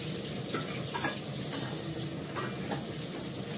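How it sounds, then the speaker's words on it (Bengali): Onion frying in a pan, a continuous close sizzle with a few soft clicks and stirring scrapes. "পেঁয়াজটা দিয়ে দিলাম"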